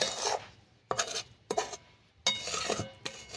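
Sugar being stirred into gooseberries (amla) for murabba: four or five scraping, grainy strokes of a spoon against a pot, each loud and close, separated by short pauses, with no talk.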